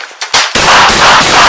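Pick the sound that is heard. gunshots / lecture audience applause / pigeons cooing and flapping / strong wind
gunshots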